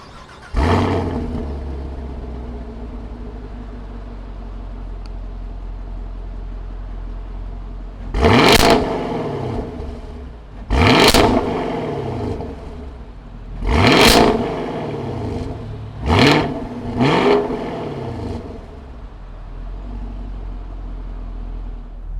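A 2020 Chevrolet Camaro LT1 V8 idles steadily, then gives five sharp throttle blips in a row, each rising to a loud roar and falling back to the rumbling idle, the last two coming close together.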